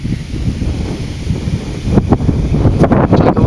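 Wind buffets a microphone outdoors beside an old house at a metal-detecting dig. There is a constant low rumble, and stronger gusts push in during the second half.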